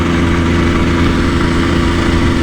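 A 1984 Yamaha RS 125 two-stroke motorcycle engine drones steadily and loudly while riding, held near 6,000 to 7,000 revs just below the power band, a continuous close buzzing tone with no speech.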